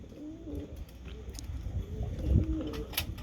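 Pigeons coo softly on a rooftop terrace, a few low throaty calls rising and falling over a steady faint background, with light chirps.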